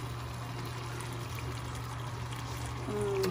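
Sesame oil trickles in a thin, soft pour over a steady low hum in a home kitchen while teriyaki chicken is made, faint and continuous for a few seconds.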